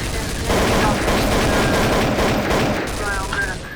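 Rapid AK rifle fire in Counter-Strike: Source, loud close bursts of automatic gunshots rattling almost continuously, with faint game effects and brief chirps near the end.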